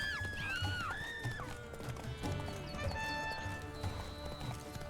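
Horse hooves clip-clop at a steady rhythm in The Witcher 3, close and clear over game music and ambience, with chirping tones and no talk.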